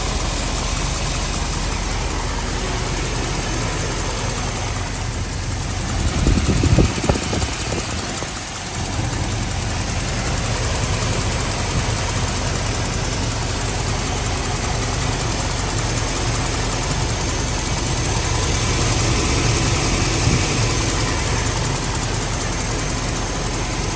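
A Chevy/GMC truck engine, just fitted with a new spider injector, idles steadily and loudly outdoors in rain, a constant low rumble with a short uneven patch early on.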